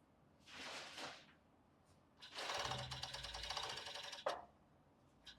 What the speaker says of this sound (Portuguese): posso fazer essa costura aqui lá na máquina reta?